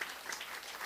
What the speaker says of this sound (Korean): 박수 한번 크게 해서